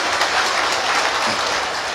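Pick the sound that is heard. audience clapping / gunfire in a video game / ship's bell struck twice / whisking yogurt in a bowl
audience clapping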